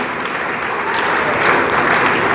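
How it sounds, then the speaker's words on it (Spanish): A church congregation applauds steadily, a dense wash of many hands clapping that swells slightly louder toward the end, with no voices standing out. "Esas palmas, esos aplausos son para ti"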